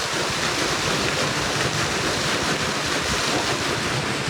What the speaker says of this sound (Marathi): मोटर चालू करून घेऊ.